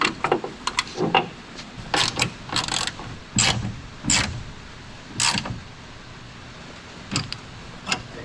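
A ratchet with a 7/32 socket tightens a bed stiffener bolt on a Toyota Tacoma truck bed: short bursts of dry clicking and creaking, close and fairly quiet, separated by pauses.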